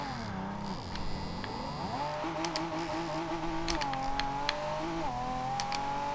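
A 2012 Pagani Huayra in Forza Horizon 2 accelerates with first-gear wheel spin, its engine note climbing through rising harmonic sweeps, dipping at gear changes, then holding a steady high drone with sharp clicks over it.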